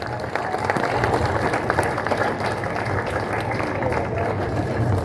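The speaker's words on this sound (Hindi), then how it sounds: "तालियों से, जोरदार तालियों से उनका प्लीज स्वागत करें" Parents and children at an academy event clap loudly to welcome a guest, a dense, steady round of applause with crowd murmur and some voices underneath.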